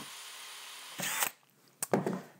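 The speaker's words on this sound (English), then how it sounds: "Just drill into a scrap piece of board." Power drill boring into a scrap timber board, two separate bursts of whirring and chewing through wood, close and fairly loud, with quiet gaps between them.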